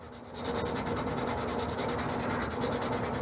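Hand sanding a wooden gun stock, a rapid back-and-forth scratchy rubbing with even rhythm, close and steady after a brief quiet start.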